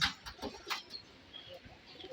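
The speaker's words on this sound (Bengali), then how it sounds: "দেখেন এখানে অনেকগুলো কবুতর আছে প্রায় পঞ্চাশ বাহান্ন পিস কবুতর আছে" Soft coos from a flock of about fifty pigeons on a pigeon farm come and go close by, with faint chirps and rustling in a quiet background.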